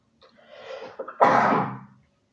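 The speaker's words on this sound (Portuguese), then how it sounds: "Vai ficar com uma tosse." A single cough, preceded by a softer throat sound, close and fairly loud, then silence.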